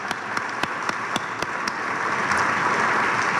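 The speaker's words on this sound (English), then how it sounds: "big round of applause to Hannah" Audience at a climate plan release celebration applauding for Hannah Payne, a few sharp separate claps at first swelling into a full, steady round of applause.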